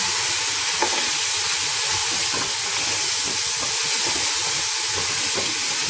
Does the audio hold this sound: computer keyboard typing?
no